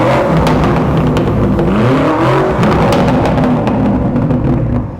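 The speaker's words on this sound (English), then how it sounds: "This right now is a full Aquapovic catback system, so it's gonna sound absolutely insane." A new BMW M2 with a full aftermarket catback exhaust revs hard and holds at high pitch, a deep throaty roar with crackles, close and continuous before easing off at the end.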